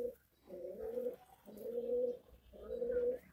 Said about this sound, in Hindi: मलवई कबूतर है, इसकी देखो सिर कितना छोटा है